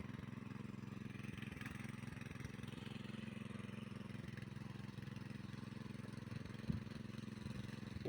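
A small tractor engine runs steadily, a low continuous rumbling drone that stays faint and even throughout with no pauses.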